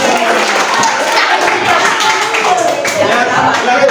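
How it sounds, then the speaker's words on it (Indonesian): A classroom of students claps together, a dense, loud burst of many hands beating steadily for a few seconds, close and energetic, with some voices mixed in. "Tepuk tangan dulu."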